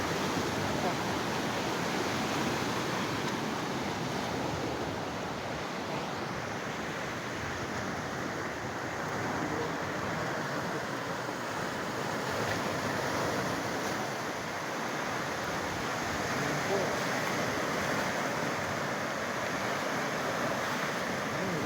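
Rough sea waves at Laiya beach in San Juan, Batangas: a continuous loud roar of surf with steady wash and some wind noise across the whole stretch, without clear breaks between waves.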